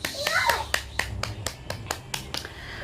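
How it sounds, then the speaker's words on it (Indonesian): Schoolchildren in a classroom give a short round of rhythmic clapping for a classmate, about a dozen evenly spaced claps, with a voice audible at the start. "Tepuk tangan untuk Rama."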